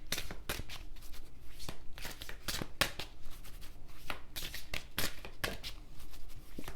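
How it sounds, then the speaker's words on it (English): Tarot cards are shuffled in a series of quick riffling bursts, crisp and close, with brief pauses between them. "Let's do some shuffling."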